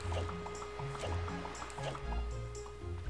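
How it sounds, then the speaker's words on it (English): A rhythmic run of wet, squishy dripping sounds from the game Zelda Wind Waker, repeating steadily like footsteps over a faint background tone. "That sound is probably his freaking nose dripping as he walks."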